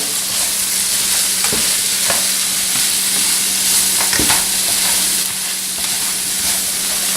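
Peppers and onions sautéing in a pan for a spaghetti squash dish, a loud continuous sizzle and hiss close by, with occasional scrapes and taps of a utensil stirring through the vegetables, no talking.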